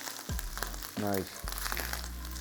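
Bacon sizzles in a hot pan for a bacon cheeseburger, giving a steady close-up crackle with a brief tonal squeak partway through.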